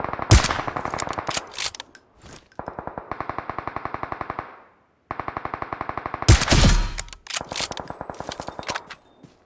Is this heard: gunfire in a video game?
yes